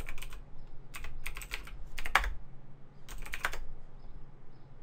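Bursts of clattering keystrokes on a computer keyboard while a command is typed for a Linux web server setup, quick runs of taps separated by short pauses, close and clear.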